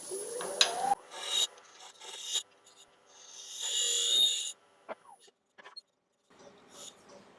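A scraper cuts a wooden capsule box spinning on a wood lathe, making close rasping, scraping passes in several uneven bursts separated by short pauses, with no talking.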